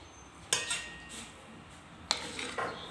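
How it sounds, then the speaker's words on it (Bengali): A serving spoon clinks against plates as curry is dished out, with two clusters of sharp metallic taps and scrapes close by over a quiet background. "আমি এখন তরকারি ভাগ করতেছি"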